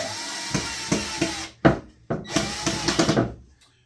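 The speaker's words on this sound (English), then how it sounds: "I just put 2 screws in right now in the top and the bottom of the hinges" Small screws are driven into cabinet hinges with a power driver, producing several short whirring bursts broken by brief pauses and a couple of sharp knocks, close and fairly loud.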